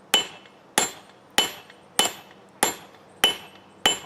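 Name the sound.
hammering a hot Damascus steel forge weld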